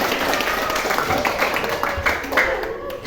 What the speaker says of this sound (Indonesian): tepuk tangan dulu buat Cinta